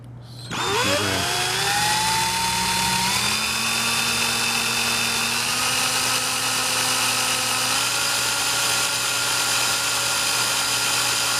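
Rivett 1020F lathe geared up to a higher speed: after a brief quiet start the spindle spins up with rising whining tones, then settles into a loud, steady mechanical whir.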